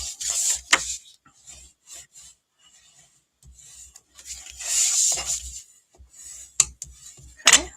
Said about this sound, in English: And then I need my bone folder to burnish these.